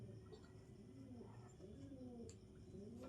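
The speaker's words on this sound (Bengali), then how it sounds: "পায়রাটা কিন্তু বন্ধুরা আমার ছাদে অবশেষে বসে গেছে।" Pigeons on a rooftop after dark give soft, low cooing that rises and falls in a continuous murmur, with a faint chirp or two above.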